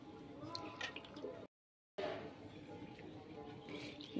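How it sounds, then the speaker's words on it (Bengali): Chopped banana flower being rinsed and drained in water, with steady dripping, squishing and splashing close by, broken by a short silent gap before the wet handling resumes. "এই যে ভালো করে আমি জল দিয়ে এই কলা মোচাগুলোকে ধুয়ে নিচ্ছি"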